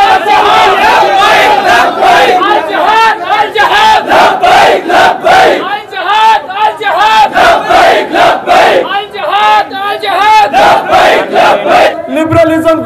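A large crowd at a protest rally shouts a response in rhythmic, loud chanted bursts, repeated rapidly and close, nearly continuous for the whole stretch.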